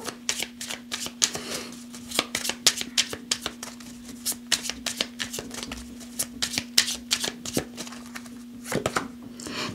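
Tarot cards are shuffled by hand close up, with quick riffling and tapping bursts repeating in an uneven rhythm for about ten seconds over a steady low hum.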